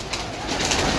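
Racing pigeons cooing, a close, steady soft cooing with a dense, rumbling texture throughout a brief moment.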